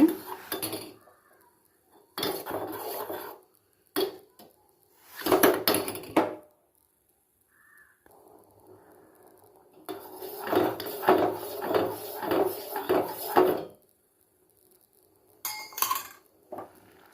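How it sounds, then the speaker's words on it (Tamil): A spoon scrapes and clinks against a pan while milk is stirred for tender coconut payasam, coming in bursts of rhythmic metallic scraping separated by quiet pauses, close and clear. "மேலே வர்றதுக்கெல்லாம் இப்படி கிளறி விட்டுட்டே இருக்கணும்"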